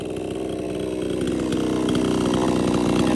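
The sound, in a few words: chainsaw cutting wood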